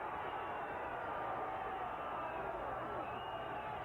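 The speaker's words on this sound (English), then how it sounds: "Crowd really trying to urge Lizarraga on." Crowd noise from spectators at an IBF world featherweight title boxing bout in San Jose, a steady, dense roar of voices urging a fighter on late in the sixth round, continuous and moderately distant throughout.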